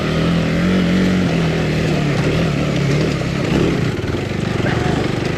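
A KTM 390 Adventure R motorcycle engine revs continuously and loudly up close, a steady droning tone rising and falling slightly as it climbs a steep obstacle under load, with throttle blips near the end.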